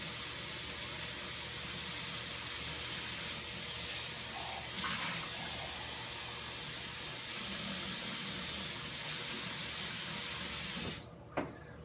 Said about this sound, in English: I'm going to fill the water up to that line.